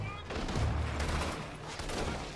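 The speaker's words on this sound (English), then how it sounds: "If you don't see me, why are you shooting?" Gunfire in the action game Infamous Second Son, a continuous rattling volley of shots and low thuds that stays steady and fairly quiet throughout, with voices faintly mixed in.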